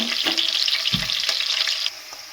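Ground masala paste for sprouted horse gram sambar sizzles steadily in a hot pan, a dense bright frying hiss with a brief low thump of stirring, close and loud throughout.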